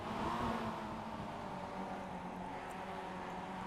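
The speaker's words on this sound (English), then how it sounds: "Let's turn the volume up so we can hear our cars." Several racing cars' engines drone steadily in a video game race, a continuous layered hum with faint shifting pitch, fairly loud and unbroken for a few seconds with no talking over it.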